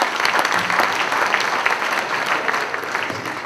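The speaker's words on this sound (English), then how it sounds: "Let's give her a big round of applause." Audience applause for Senator Ellen Corbett at a unity dinner: dense, sustained clapping from a sizable room, loud and even throughout, with no speech on top.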